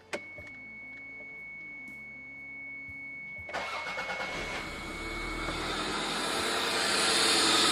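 An RB26 engine in a Nissan 300ZX with no air filter cranks and catches, then settles into a steady, loud idle after a few quiet clicks and mechanical rattles.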